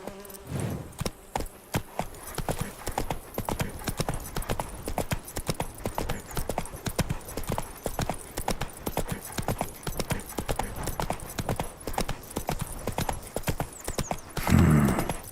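Roach, a horse in The Witcher 3, gallops with steady, rapid hoof clip-clops throughout, a brief whinny near the end amid game ambience.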